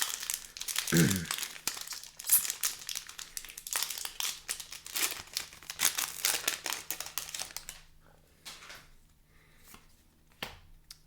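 A Magic: The Gathering booster pack from a Doctor Who collector box is torn open with a burst of crinkling, ripping foil wrapper, followed by softer rustling and scattered crinkles as the cards are handled up close.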